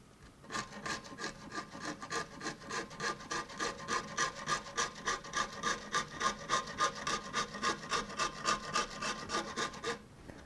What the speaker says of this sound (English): I like this Shinto rasp because it really cuts through the skin quickly